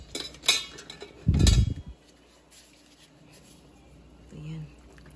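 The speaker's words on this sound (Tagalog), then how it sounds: "Haluin natin." A spoon stirs a pot of Filipino pork leg stew seasoned with salt, giving a few sharp clinks and then a brief, heavy scraping churn near the start, followed by quiet.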